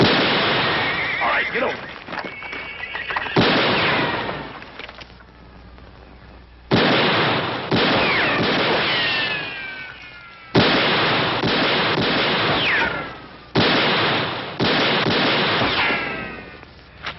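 Gunfire in a western drama: several sharp bursts of sharp cracks, each followed by lingering reverberant rumble, separated by near-silent gaps, with someone speaking briefly.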